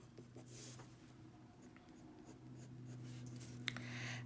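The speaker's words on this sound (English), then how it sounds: "I definitely want to color one of my houses with the Balmy Blue watercolor pencil" A Balmy Blue watercolor pencil colors in a house drawing on paper, giving soft, quiet scratchy strokes in a loose repeating rhythm, close by, with a low steady hum underneath and no talking.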